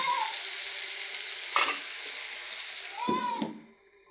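Small mola fish hiss and sizzle in hot oil in a pan, with a sharp clatter of the spoon stirring near the middle and again toward the end before the sizzle fades.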